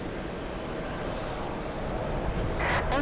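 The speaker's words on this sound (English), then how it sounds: "JetBlue flying in from Philadelphia." A JetBlue airliner arriving from Philadelphia comes in to land in a crosswind, its engine roar a broad steady rumble that swells slightly toward the end, heard without speech.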